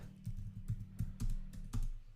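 Keys tapped on a keyboard while adding an item in a to-do list app, a few clustered keystrokes spaced out over two seconds, quiet and close with no voices.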